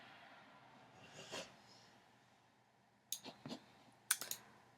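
Faint, scattered clicks of typing on a computer keyboard, a few quick keystroke bursts near the end in an otherwise quiet room.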